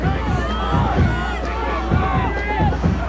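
Crowd at a high school football game cheering along with cheerleaders on the sideline, a steady mass of voices with rhythmic shouted bursts, close and loud throughout.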